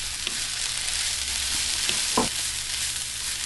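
Finely chopped cabbage being mixed and frying in a pan for low-carb pancit, a steady close sizzle with a few brief scrapes and taps of stirring, no talking.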